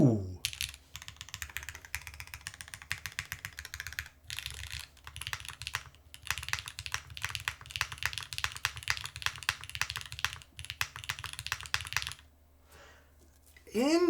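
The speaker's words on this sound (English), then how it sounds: "What are we typing on? This is the Parabolica with granite switches." Rapid continuous typing on a Parabolica mechanical keyboard with granite switches, a dense clatter of key presses with a few short pauses and a steady low hum underneath.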